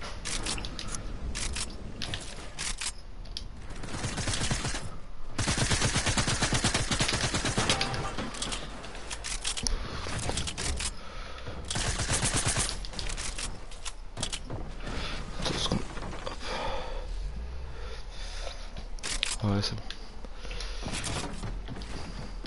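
Sustained video game gunfire rattles in rapid automatic bursts and single shots, loud and close throughout, with brief pauses between volleys.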